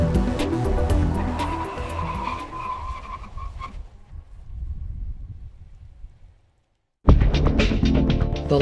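A car with worn shock absorbers brakes hard, its tires squealing and skidding loudly for several seconds before fading into near silence, followed by a second burst of loud tire screech.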